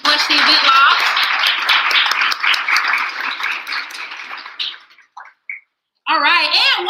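Audience applause and cheering at a pitch event, loud and dense clapping that tapers off, with a brief pause before another burst of crowd noise and voices.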